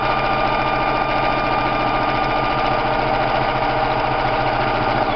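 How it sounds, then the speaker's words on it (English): A Singer sewing machine stitches a buttonhole automatically, its motor and needle running in a steady, fast, even rhythm, close and continuous throughout with no talking. "So now it's going to run up one side of the buttonhole. I'm not doing anything, hands-free."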